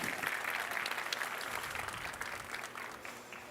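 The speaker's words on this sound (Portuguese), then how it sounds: "Salva de palmas." An audience at a business talk on artificial intelligence breaks into applause, a dense burst of clapping that is strongest at the start and gradually fades over a few seconds.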